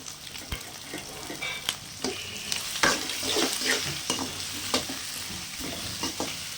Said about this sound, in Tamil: குடமிளகா அப்புறம் பெரிய வெங்காயம் எல்லாத்தையும் போட்டுக்கலாம். போட்டுட்டு ஒரு கலர் கலரிடுங்க.